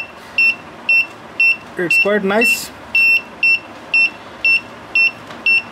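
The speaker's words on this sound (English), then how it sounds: "you can use it for the waking up alarm, and it's pretty decent alarm" An LED digital alarm clock beeps in steady double-pips about twice a second, loud and close, while a person briefly speaks over it.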